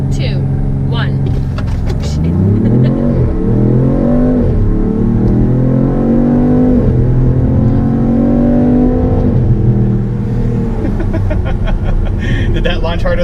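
A 550-horsepower Dodge Charger Six Pack launches hard from a standstill, its engine roaring loud and close as it climbs steadily through the revs, with people talking over the noise.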